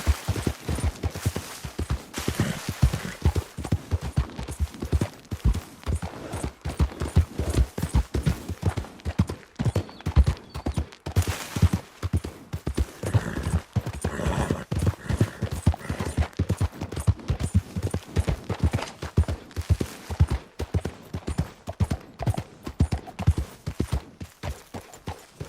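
In Red Dead Redemption 2, a horse gallops with a fast, steady clip-clop of hooves that runs continuously and close up throughout, with faint game ambience underneath.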